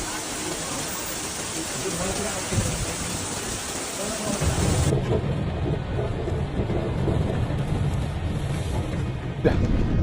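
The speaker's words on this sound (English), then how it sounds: "bringing strong gusts of wind and heavy rain, causing flooding in various parts of the city" Heavy rain pours down continuously in Seville during Storm Nuria, with strong gusting wind roaring through the street; the downpour stays loud and dense throughout, growing heavier midway.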